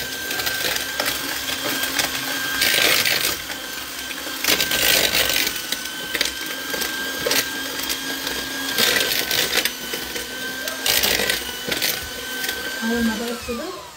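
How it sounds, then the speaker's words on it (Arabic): An electric hand mixer beats cake batter with butter in a home kitchen, whirring steadily throughout with surges in loudness as the beaters work, while people talk over it. "ممكن نقلبها بالزيت ولا ممكن نضربها في المضرب باختصار للوقت"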